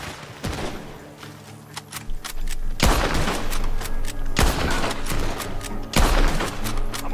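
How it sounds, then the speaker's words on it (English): Gunfire rings out from a barn in Red Dead Redemption 2, with several loud, sharp volleys and bursts that land at irregular intervals over a steady game soundscape and music bed. "Gunshots are coming from that barn."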